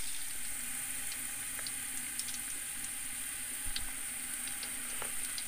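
Garlic frying in a pan for mattar pulao, a soft, steady sizzle with faint crackles and pops, quiet and continuous throughout without talk.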